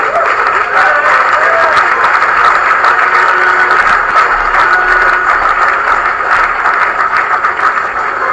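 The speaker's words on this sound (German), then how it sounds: "Einen Applaus für Tony Drago" Sustained, loud applause from an audience greeting snooker player Tony Drago, nicknamed The Tornado, at his match against Roy Stolk, a dense steady wash of clapping with a faint crowd murmur throughout.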